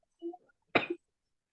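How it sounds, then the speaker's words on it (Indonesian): A woman gives a single sharp, close cough after a brief low murmur, then the room falls silent. "Maaf Ibu, saya batuk."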